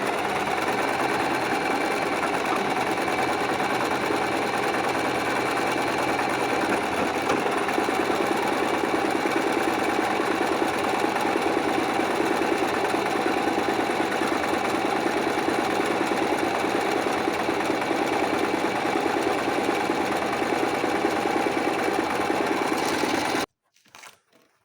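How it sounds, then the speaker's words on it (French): A sewing machine stitches fabric for a zippered pouch in one long, fast, even mechanical whir up close, then stops abruptly near the end with a few brief clicks. "Et maintenant, vous allez pouvoir coudre."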